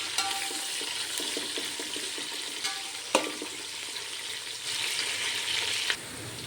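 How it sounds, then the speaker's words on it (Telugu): Onions and green chilies fry for chicken biryani in a soft, continuous sizzle close by, with light stirring clicks and one sharp clack of utensil on pan midway. "ఇందులోనే కొద్దిగా పచ్చిమిర్చి ఇంకా కలిపేసుకొని బాగా ఫ్రై అవుతాం"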